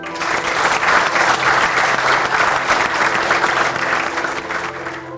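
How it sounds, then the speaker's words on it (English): Sustained audience applause at a formal event about the Comptroller and Auditor General of India, a dense, loud wash of clapping that holds steady for about five seconds before tapering slightly. "As the applause ended"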